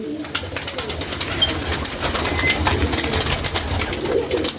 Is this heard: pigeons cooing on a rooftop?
yes